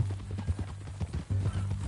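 Horse hooves clip-clopping in the Red Dead video game, a steady walking rhythm of close, clear hoof strikes over a low hum, with a faint voice.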